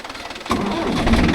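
A Mahindra tractor engine, an Arjun Novo 605 or 575 DI, starts abruptly after a quiet moment and settles into a loud, steady, close-up rumble that rises as it is revved hard.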